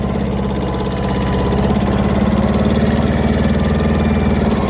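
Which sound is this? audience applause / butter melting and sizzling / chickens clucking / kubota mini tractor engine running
kubota mini tractor engine running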